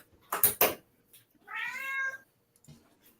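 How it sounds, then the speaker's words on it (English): A house cat gives one clear, drawn-out meow close by, preceded by two sharp knocks or thumps and followed by a soft bump, with quiet between. "it's the cat."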